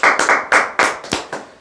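Audience members at a Korean talk on insurance telemarketing clap in a short, loud burst of about six distinct close claps at an uneven rhythm.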